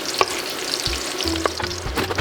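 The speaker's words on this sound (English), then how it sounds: "This will really make the chilies release their flavors more than if you didn't toast them." Dried chilies toast in a hot pan for Oaxacan mole, giving a steady soft sizzle and crackle with a few light knocks and scrapes from stirring, with no talk over it.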